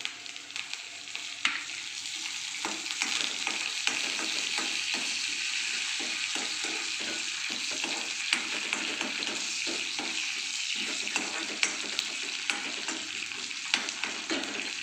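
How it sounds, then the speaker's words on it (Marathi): Onion and tomato fry in a pan for upma while being stirred, a steady close sizzle running throughout with repeated scraping strokes of the spoon. "मी आता टमाटर आणि कांदा दोन्ही ॲड केलेला आहे चांगलं मी हलवून घेणार आहे"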